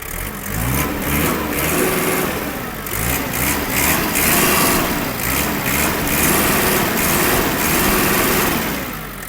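A small Yanmar FX-42 mini tractor engine runs loudly and close, its pitch rising and falling in a few surges as the throttle is worked, with no pauses.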